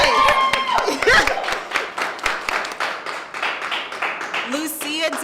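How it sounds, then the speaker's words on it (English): Audience clapping at a live performance event, steady overlapping claps mixed with voices and speech over the crowd. "We can clap in here."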